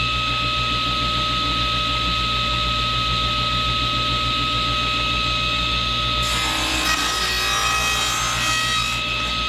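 Wooden trivet pieces are cut on a saw with a miter gauge: a loud steady motor whine runs throughout, and a harsher grinding cut through the wood enters near the end.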